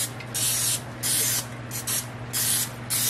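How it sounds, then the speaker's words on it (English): Four or five short bursts of cooking spray hiss close by over muffin tops, each about half a second long, separated by brief pauses. "give those tops a little spray"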